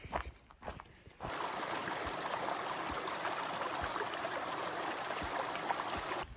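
A river flows beside a backcountry trail in the Bob Marshall Wilderness, a steady broadband rush of water that swells in after a brief quieter stretch with a few footfalls and rustles, close and continuous.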